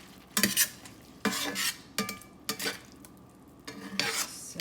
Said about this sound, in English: Let's just deglaze that right off the pan